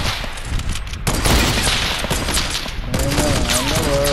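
Fortnite gunfire in a duos sniper shootout erupts as a loud dense barrage of shots, continuous and close, with a speaking voice briefly audible near the end.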